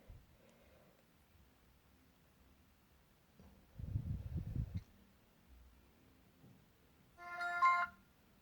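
Ringtone melody from the small built-in speaker of a Huawei smartwatch running Android Marshmallow 6.0, a brief tinny burst near the end of a mostly quiet stretch with some handling noise.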